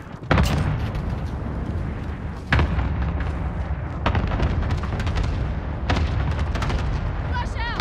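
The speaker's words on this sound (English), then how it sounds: "Cluster strike away." Cluster strike explosions thunder in Call of Duty: Modern Warfare, several heavy booms landing at intervals over a dense, rumbling wash of battlefield noise, with gunfire crackle and faint radio chatter mixed in.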